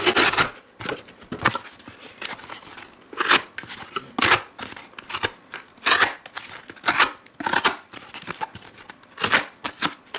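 A Schrade SCH307 folding knife slices repeatedly through material, producing a series of sharp, close, rasping cuts in an irregular rhythm, with no voices.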